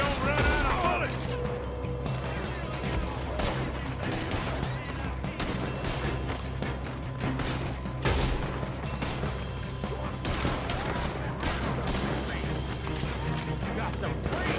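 A Red Dead Redemption 2 shootout during a robbery, with scattered gunshots popping at varied distances, some in quick clusters, while a voice speaks over the fighting.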